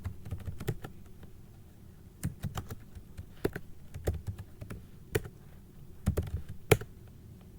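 Typing on a computer keyboard at a command line, close and fairly soft, with irregular clusters of quick key taps and brief pauses between bursts.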